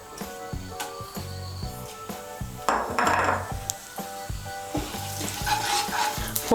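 A bay leaf, a dried red chili and half a teaspoon of whole cumin hit hot oil for a vegetarian potol bora curry, bursts of sizzling and stirring clatter rising over steady background music.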